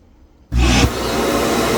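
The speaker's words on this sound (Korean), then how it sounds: "로봇 청소기에 먼지통을 비우고 있습니다." A TP-Link Tapo RV30 Plus clean station starts emptying a robot vacuum's dustbin: after a half-second of near silence, a loud, steady suction roar kicks in abruptly and holds to the end.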